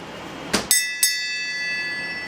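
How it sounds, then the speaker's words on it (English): A metal bell is struck a few times in quick succession, each strike ringing out with a clear, lingering tone; no talking. "let's ring the bell, shall we?"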